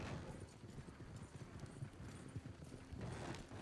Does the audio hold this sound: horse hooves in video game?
yes